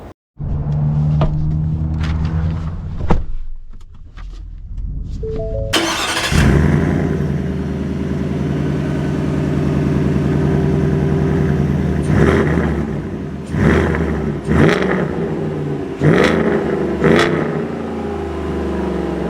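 Shelby F-150 Off-Road pickup, a 785-horsepower truck, starts and sets off: a quiet stretch, then a loud close engine roar that holds and swells with a few revving bursts, no talking.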